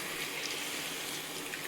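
Water is sprinkled into a pan of fish and mango curry, giving a steady, close, hissing splash with no break across the whole moment.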